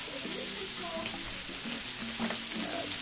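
Red peppers sizzle steadily in hot oil for a holiday paella, a continuous frying hiss with soft stirring and clinks of the pan underneath, fairly quiet and without speech.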